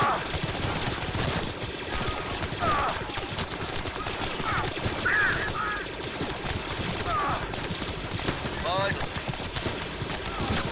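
Sustained blaster fire crackling through a Clone Wars base defense battle in Star Wars: Galaxy at War, dense repeated shots with chirping bursts under an ongoing voice.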